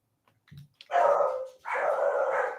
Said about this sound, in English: I hope y'all aren't hearing my dogs.